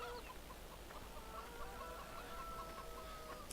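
Hens cluck in a chicken enclosure in Farming Simulator 17, a faint, continuous stream of soft clucks and calls over a low steady hum, with no talk.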